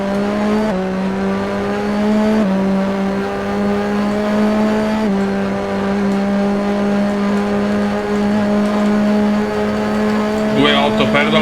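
A 1988 McLaren Formula 1 car in the Grand Prix 4 racing game roars in a loud, sustained engine drone, its pitch climbing and dropping sharply at gear changes, with a brief squeal near the end.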